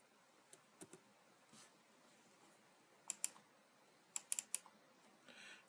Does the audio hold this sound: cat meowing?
no